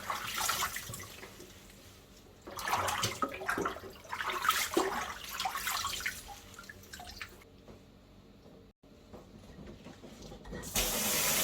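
Bundles of 방풍나물 greens, a leafy herb, washed by hand in a basin of water, with splashing and dripping that comes and goes in bursts, then a quiet stretch before a louder rush of running water at the end.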